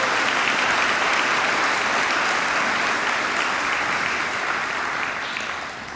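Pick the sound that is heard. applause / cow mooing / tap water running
applause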